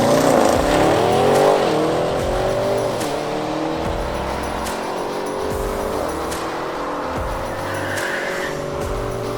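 A stock Audi RS6 launches on a quarter-mile run, its engine rising through the gears with a loud, close roar. A brief stutter and tire squeal mark the launch, followed by a sustained high-revving pull.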